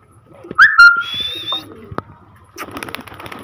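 Domestic pigeons on a rooftop loft, with a loud whistling coo-like call early on, followed by scattered fluttering and rustling bursts, then a busier stretch of wing flaps and movement toward the end.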